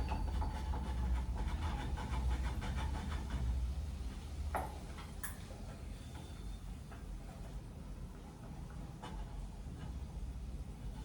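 Luchi frying in hot oil in a home kitchen, a steady low sizzling hiss close by that runs throughout, with a few faint clinks.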